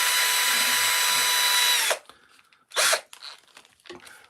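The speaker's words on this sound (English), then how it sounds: "drill a hole with a countersink" A power drill bores a countersunk hole in wood for woodcarving, a loud steady whine for about two seconds that then cuts off, followed by brief clatter and handling noises.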